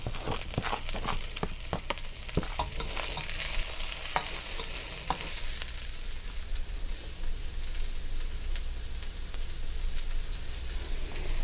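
Mixed vegetables stir-fry in oil in a pan for a Mongolian beef steak dish, giving a steady loud sizzle throughout with repeated sharp scraping and tossing clicks early on, then a more even crackle; no voices.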